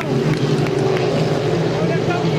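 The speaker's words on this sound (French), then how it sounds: "c'est là qu'on démarre les moteurs" Racing boats from a 5-litre class hydroplane final at Beauharnois, engines droning loudly and steadily with a strong low hum, mixed with an excited commentator talking over the roar.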